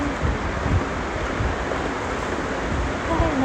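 Steady, strong typhoon wind roars and buffets the microphone throughout, a dense rushing noise with occasional louder gusts.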